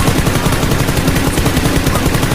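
Rapid, continuous cartoon gunfire for a Spiderman shooting scene: a dense stream of loud bursts with no pauses and no talking.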